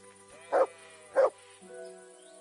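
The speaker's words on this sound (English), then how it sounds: "What does that mutt want over here?" A dog in the medieval role-playing video game Kingdom Come: Deliverance II gives two sharp, loud barks about half a second apart, followed by a softer low whine, over quiet game ambience.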